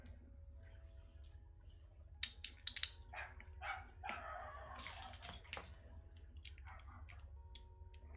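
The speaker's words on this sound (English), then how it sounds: "one of my dogs just ran outside barking." A dog barks outdoors a short distance off, a few sharp yaps followed by scattered clicks and rustling over a steady low hum, with no talking.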